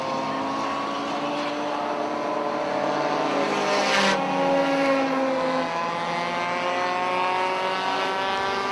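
Dirt modified race cars at Airborne Speedway in Plattsburgh, New York: several engines roar and whine together in overlapping rising and falling pitches, one car sweeping past close by mid-way, a continuous loud race-track drone.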